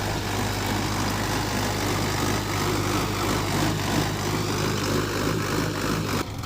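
A Sonalika DI 55 RX tractor engine labours at about 1200 to 1400 RPM pulling a 3MB reversible plough through soil, a loud, steady low diesel drone with constant rumble, close and uninterrupted.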